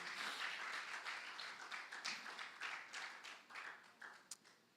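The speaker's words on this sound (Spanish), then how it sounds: "Puede darle una ofrenda de palmas al Señor." A church congregation claps during a worship service, a faint, distant patter of many hands that swells and ebbs in uneven bursts, with no voices.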